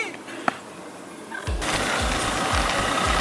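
A 1973 Honda CBS 125 motorcycle engine catches partway through and settles into a close, rapid, throbbing putter. Before that, only faint background noise and a small click are heard.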